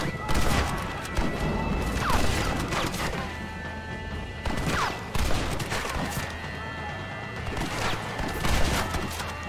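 Sniper rifle shots ring out in a Red Dead Redemption shootout, several sharp cracks spread across the stretch amid other gunfire and crashes, with players talking over the action.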